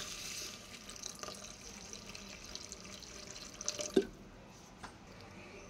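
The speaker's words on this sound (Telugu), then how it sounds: "ఇప్పుడు మనం కొన్ని వాటర్ పోసుకుందాం" Water poured into a pot of sweet corn soup, a trickling, dripping flow with small splashes and a few louder drops near the end, close and without talk.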